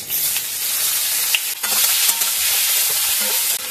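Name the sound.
chopped onion frying in hot oil with whole spices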